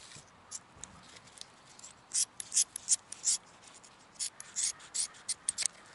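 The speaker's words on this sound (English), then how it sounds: "But there's way too much strap on here, so I'm going to cut it off." Short, crisp snips and scraping cuts through excess nylon ratchet strap webbing, heard close and fairly quiet in an irregular series of about a dozen.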